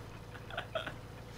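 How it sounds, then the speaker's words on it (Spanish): Two quick, faint hiccups in a row, small sharp vocal catches against a quiet background. "Ay, tengo hipo."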